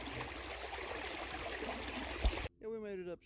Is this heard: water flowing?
yes